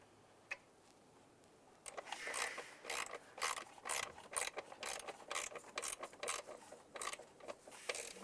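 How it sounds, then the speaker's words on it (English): A ratchet tightens a bolt on a 2011–2019 Ford Fiesta knock sensor, with a rapid string of sharp metallic clicks after a quiet start, close and crisp, with no talking. "Let's go ahead and get our ratchet in there."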